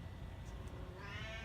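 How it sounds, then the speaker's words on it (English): A house cat gives a couple of short, clear meows up close, standing out over a quiet, slightly hissy background with no talking. "very loud kitty."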